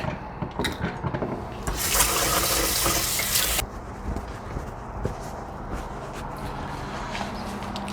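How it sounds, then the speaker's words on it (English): Hands are washed under a running kitchen tap, with a burst of loud rushing water in the middle of the stretch among quieter splashes, handling noises and a few footsteps nearby. "I'm gonna wash my hands real quick."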